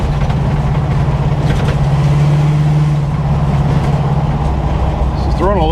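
Engine of a 1977 Chevy Monte Carlo running at a steady idle, a close, continuous low droning hum with a sustained tone, while voices talk over it.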